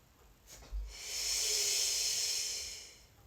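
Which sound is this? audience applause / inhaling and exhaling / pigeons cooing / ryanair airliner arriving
inhaling and exhaling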